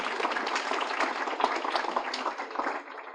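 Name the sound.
audience applause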